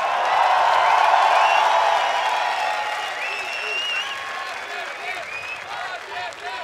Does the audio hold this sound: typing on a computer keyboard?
no